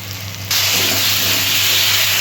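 Water used to rinse ground spices is poured into a pan of frying spices with salt and sugar for a cauliflower, potato and fish curry, setting off a sudden loud, steady hissing sizzle that holds close and continuous after a quieter, low-humming start.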